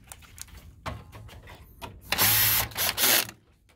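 Screws being driven back into a Konica Minolta bizhub C458 copier after the fuser is refitted. Light clicks and taps lead into two loud whirring bursts from a power driver, close to the listener.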